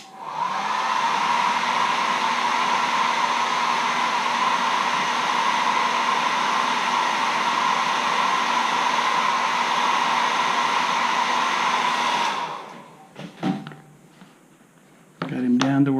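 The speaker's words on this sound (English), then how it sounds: "use the hairdryer again" A hair dryer, used while painting a carved wooden caricature letter opener, blows with a steady, loud whirring hum for about twelve seconds, then switches off, leaving a few faint clicks and a voice at the end.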